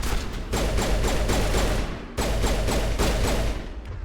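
Sustained gunfire from the Mass Effect video game, with dense rapid bursts of shots and thumps running almost continuously, loud and close, with a brief break in the middle before firing resumes.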